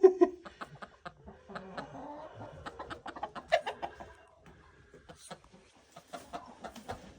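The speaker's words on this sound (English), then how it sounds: "Hello, hen." Hens clucking in a backyard coop, scattered short soft clucks and throaty murmurs close by, with a few livelier squawks and occasional faint voices in the background.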